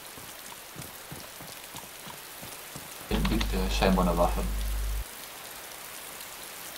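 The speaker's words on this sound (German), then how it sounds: "Oh, anständig dieser Regen." Rain in the video game DayZ Standalone, a continuous hiss of drops pattering on surfaces that runs throughout, with someone talking briefly over it midway.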